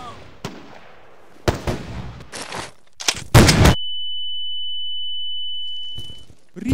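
Gunfire in the video game Insurgency mod comes as several sharp, loud shots and bursts spread over a few seconds. A heavy blast is followed by a long, steady high ringing tone before one more shot.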